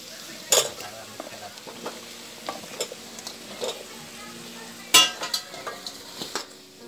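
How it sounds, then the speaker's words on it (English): Vegetables coated in red chili powder and sambar masala are stirred in a frying pan, with soft scraping, light sizzling and a few sharp clinks of the spoon against the pan, moderately close. "Mix it well so that the veggies will get coated with the masala."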